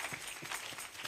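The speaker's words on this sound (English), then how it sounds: "Applause for the blessing of the Lord" Applause from a church congregation, a steady wash of many hands clapping at moderate distance, continuous through the moment with faint rhythmic peaks and no clear speech.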